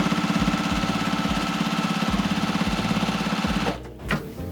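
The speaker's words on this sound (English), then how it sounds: "And I'm gonna sew all the way around, giving it a nice good top stitch." A sewing machine runs steadily, top stitching around the edges of a fabric bow in a rapid, even mechanical chatter that cuts off near the end, followed by a brief clunk.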